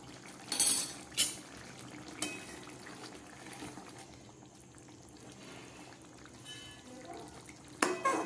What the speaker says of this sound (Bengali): একদম শেষে দিয়ে দিচ্ছি একটু ঘি